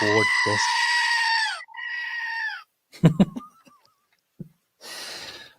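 A goat gives loud, close, drawn-out bleats, two long wavering cries followed by a shorter one, then a few clattering knocks and a brief rough burst near the end, with no talk.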